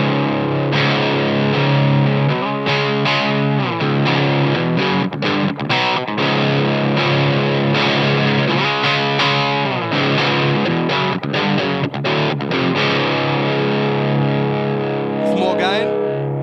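An electric guitar through the rhythm channel of a Sherlock Fathead amp with the EQ set flat, strummed chords and riffs with crunchy gain, loud and continuous, with no voice.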